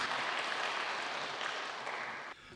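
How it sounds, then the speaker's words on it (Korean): Faint applause from a seminar audience welcoming a guest professor, a steady, distant patter of many hands clapping without talk. "박수를 맞이하겠습니다"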